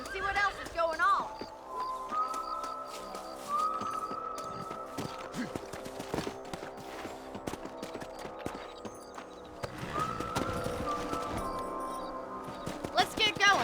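Horses' hooves clip-clopping in a Red Dead video game, a steady patter of hoofbeats mixed with game music and voices talking over it.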